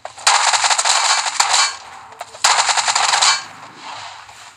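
Automatic gunfire from a Thompson gun in the mobile battle game BGMI, two loud sustained bursts, each about a second long, with a brief pause between them and a faint tail after the second.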